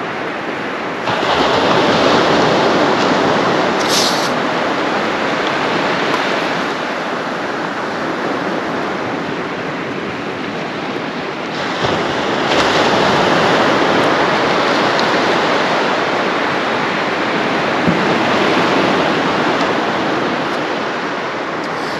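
Sea waves wash steadily onto a beach on the UK east coast at Withernsea, a loud continuous roar of surf that swells and eases in long surges, with wind buffeting the microphone.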